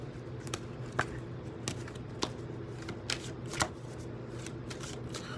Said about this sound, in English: One more shuffle, please.